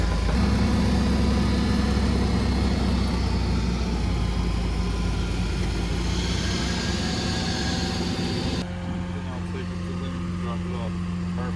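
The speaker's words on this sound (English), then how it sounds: "here we are taking it off with the fork truck" A fork truck unloads an Exmark Lazer Z mower from a rollback tow truck; a steady low engine hum and idle drone runs throughout, close by, with some clanking, and voices are heard under the engine noise.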